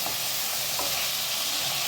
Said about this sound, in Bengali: চিংড়ি ভাজতে বেশি সময় লাগে না, 7-8 মিনিটেই চিংড়ি ভাজা হয়ে যাবে, কিন্তু একটু ভালো করে নাড়িয়ে ঘুরিয়ে ঘুরিয়ে ভেজে নিতে হবে।